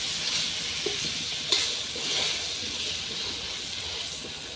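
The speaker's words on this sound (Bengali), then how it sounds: "তার জন্য পটল ভাজা করছি।" Pointed gourd (potol) fries in oil in a home kitchen pan. A continuous close sizzle and hiss runs throughout, with a few small pops and stirring clicks and no talking.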